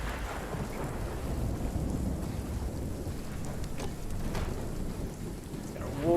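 A thunderstorm in RuneScape: Dragonwilds brings constant heavy rain and deep rolling thunder, with faint sharper crackles midway and a slight swell near the end.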